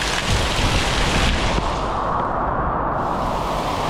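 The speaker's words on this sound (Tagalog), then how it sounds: "Ang lakas ng ulan." Heavy rain pouring down near a garage, a loud, dense, steady roar of downpour that fills the whole scene with no break and no voices.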